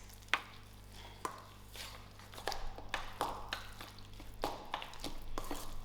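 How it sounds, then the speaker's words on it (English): Chicken mince being mixed with an added egg for burger patties, giving wet, squelching stirs with a few sharp taps against the bowl, close and fairly quiet over a steady low hum. "I'll add in my egg. I'll give this a nice mix."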